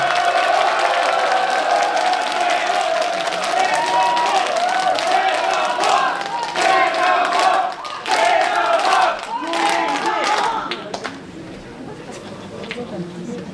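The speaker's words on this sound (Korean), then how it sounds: "여러분 큰 박수로 맞아주시기 바랍니다." A crowd at a joint campaign rally for mayoral candidates in a university memorial hall claps and cheers to welcome a candidate, loud and sustained, with an amplified announcer's voice over the noise before it thins out.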